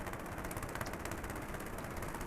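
Underwater ocean recording of a container ship's engine running, a faint, steady broadband rumble with a rapid pulsing texture and no other sounds.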